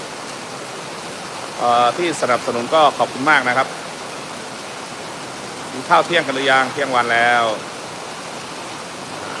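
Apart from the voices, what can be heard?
rain falling at a farm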